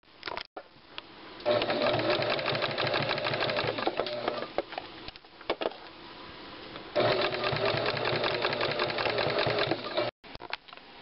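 A sewing machine stitches a reversible jacket cuff in long continuous runs, loud and close, with a brief pause partway through and a few short stops near the start and end.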